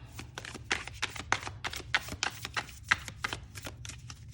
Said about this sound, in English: As you can see, they side shuffle very well